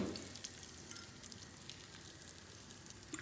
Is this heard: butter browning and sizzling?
yes